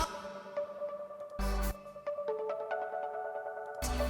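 Soloed synth pluck layers from a worship song production ring out as a series of short, bright, tonal notes in a gentle rhythm, fairly quiet and with no voice.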